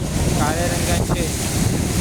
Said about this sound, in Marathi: या दगडीमधूनच हा समुद्र आहे समुद्राचं पाणी किनाऱ्यावरती आलं तरी पाणी जास्तीत जास्त वरती येतं